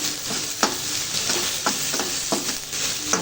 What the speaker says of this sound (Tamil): தோல் தோலெல்லாம் கொஞ்சம் நல்லா வதங்கி வர வரைக்கும் நல்லா வதக்கி விட்டுடலாம்